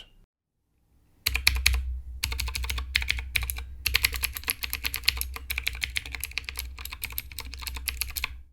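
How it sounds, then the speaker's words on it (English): Keys on a Divoom Ditoo retro-style desk accessory are typed on in quick, uneven bursts of close, crisp clicks after a brief silence, with no talking. "we're going to get onto a sound test so you guys can hear exactly how these keys sound."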